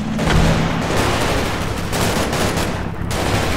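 Gunfire in the WWII tactics game Combat Mission Market Garden: a dense, continuous rattle of machine-gun and rifle fire with scattered heavier bursts, loud and sustained throughout with no talking.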